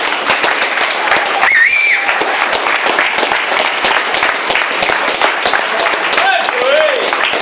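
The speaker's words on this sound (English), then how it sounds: "You can clap if you want." Wedding guests clap after a toast to the couple, a lively patter of applause with voices and cheers mixed over it.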